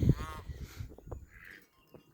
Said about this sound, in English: The turkeys and the ducks.